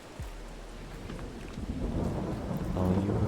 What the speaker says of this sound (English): And now we gotta wait for it to stop raining.